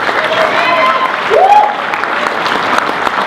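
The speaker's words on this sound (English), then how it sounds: "Big round of applause for that." Sustained applause from a crowd at a credit union awards evening, steady clapping throughout with a few cheers and whoops rising over it.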